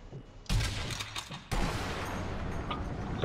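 Sniper rifle fire in the zombie shooter video game Sniper Elite Nazi Zombie Army 2: two loud, sharp shots about a second apart, each followed by a long, rumbling echo that fades slowly.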